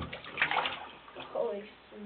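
Water splashes and sloshes in a bathtub as a cat gets a bath, in short, irregular bursts with a voice talking over them.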